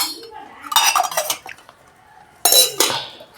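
Dishes and vessels being washed after a family gathering, with close clattering bursts of metal pots and cutlery separated by a quieter gap.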